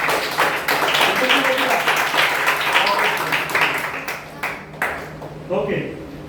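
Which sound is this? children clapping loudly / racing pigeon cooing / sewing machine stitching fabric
children clapping loudly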